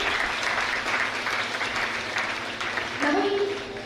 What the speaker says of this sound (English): Please audience give a round of applause for sir.